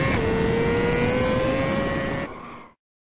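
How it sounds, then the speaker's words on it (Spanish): A BMW S1000RR sport motorcycle engine runs loudly at high, steady revs at a gas station, then the pitch drops and the sound cuts off abruptly near the end. "escuchen cómo baja la revolución. Está muy fuerte esta moto"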